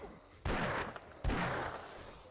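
Two sharp, loud shotgun blasts in a video game ring out close together, each followed by a short decaying tail over quiet background noise.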